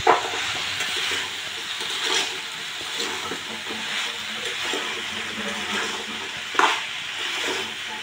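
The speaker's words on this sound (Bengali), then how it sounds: "এবার ভালোভাবে এটাকে মিশিয়ে নিতে হবে।" Mixed vegetables stirred and fried in a pan, a steady sizzle and hiss with scraping spoon strokes and a few sharper clatters, close and moderately loud, with no talking.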